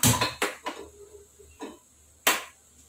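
Metal kadai (wok) being set down on a stove in a home kitchen while preparing a Kerala-style lunch, giving a few sharp metallic clanks and knocks spaced apart, close by, with no talking.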